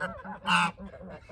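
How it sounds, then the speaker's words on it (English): A Welsh Harlequin duck outdoors gives one short, loud, harsh honking call in the middle of quieter, softer fowl sounds. "Hey little duck."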